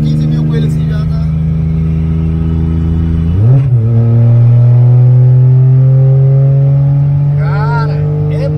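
A VW Up with a Stage 4 tune revs up loudly from inside the car, its engine note climbing sharply and then holding a strong, rising drone; someone talks over it.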